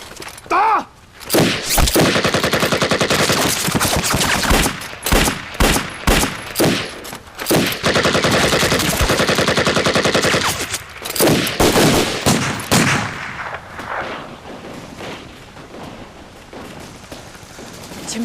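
Machine-gun and rifle fire rattle through a battle scene in a war drama set by the Xiang River: loud, rapid bursts and single shots overlapping for most of the stretch, then thinning toward the end.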